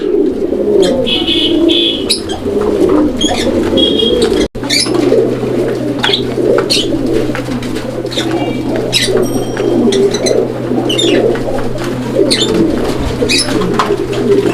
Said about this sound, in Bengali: নটটা কি পরিমাণ ডাকাডাকি করে